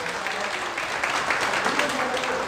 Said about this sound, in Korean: 다시 한번 우리 이동철 대표님께 큰 박수 부탁드리겠습니다